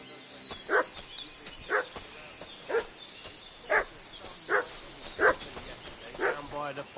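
A dog barks repeatedly in Kingdom Come: Deliverance II, roughly seven evenly spaced mid-distance barks about one per second over a faint ambient bed, with some speech-like murmur in the background.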